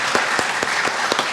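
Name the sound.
audience applause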